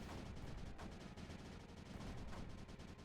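Mortar explosions in a strategy video game clearing creep pound continuously, a dense, steady barrage of rapid overlapping blasts with no pause, loud and close.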